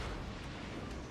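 A British cruiser Orion fires a salvo of HE shells in World of Warships, one brief, loud and heavy rumbling boom that fills the whole moment.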